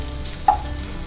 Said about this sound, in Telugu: ఇది కూడా మళ్ళీ పచ్చివాసన పోయేలాగా ఫ్రై చేసుకోవాలి